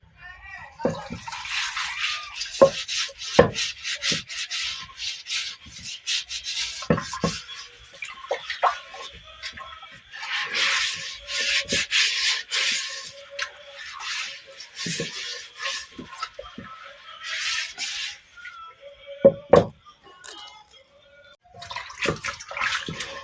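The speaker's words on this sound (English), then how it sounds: "Let me rinse it. Let me wash the mortar." Water splashes and drips in bursts as a wooden mortar is washed and rinsed by hand for Nigerian banga palm fruit soup, with intermittent knocks and clunks of the wood between pours.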